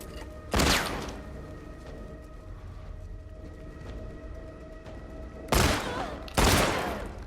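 Video game gunfire arrives in three loud, close bursts, one near the start and two near the end, with a quieter hum between them and no speech.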